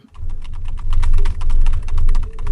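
Rapid clicking keystrokes on a laptop keyboard, a continuous close patter over a loud low rumble like a moving vehicle, with no talking.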